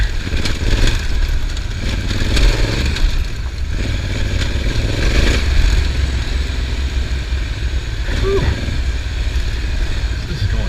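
A Honda Africa Twin adventure motorcycle rides along a mountain road on Mount Hood, its engine a steady loud drone mixed with heavy wind rush, with occasional faint voice.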